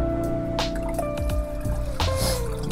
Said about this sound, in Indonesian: saya akan masukkan air di dalam tangki airnya ya